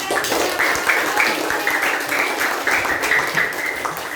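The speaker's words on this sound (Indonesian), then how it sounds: "Luar biasa, tepuk tangan." Children in a classroom applaud together, a steady wash of many small hands clapping at moderate loudness for a few seconds, with faint voices mixed underneath.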